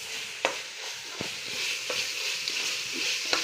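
Rice frying in a pan for coconut rice, with a steady sizzle and a few sharp scrapes as a spoon stirs the grains, close up and with no talking.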